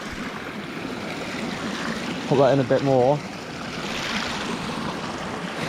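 A steady, broadband rush of a waterfall beside a mountain campsite on the Snowdonia Slate Trail, constant throughout with someone briefly speaking over it.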